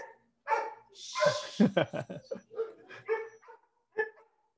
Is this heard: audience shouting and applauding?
no